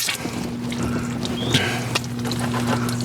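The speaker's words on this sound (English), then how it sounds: "There's water squirting." Water squirting hard from a disconnected water line, a steady hissing spray running throughout with a low mechanical hum underneath and a brief clunk midway.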